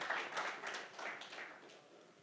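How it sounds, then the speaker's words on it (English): Applause from the audience at a real estate conference, a soft, distant spatter of clapping that gradually fades out. "round of applause for them"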